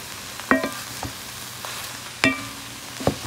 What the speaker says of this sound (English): we're just kind of mixing it all in there to get it all covered in the seasoning